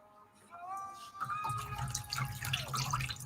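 Water dripping and trickling into a basin as a marbled fabric scarf is lifted out, a quick run of splashy drops close by. A faint tonal sound runs underneath.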